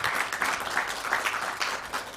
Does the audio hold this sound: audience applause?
yes